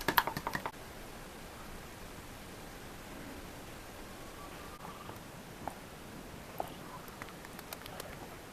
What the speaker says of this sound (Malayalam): ഇതിൻ്റെ ബബിൾസൊക്കെ പോകാൻ വേണ്ടിയിട്ട് നമ്മൾ തട്ടുന്നത് കറക്റ്റായിട്ട്